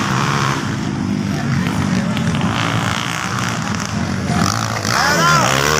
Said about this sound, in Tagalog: Wala makita ang motor.